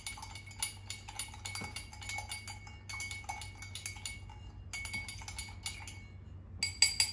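A mixing spoon stirs sugar and sparkling water in a glass for an Old Fashioned, giving rapid, soft, repeated metallic clinks against the glass in bursts with brief pauses, fairly quiet and close.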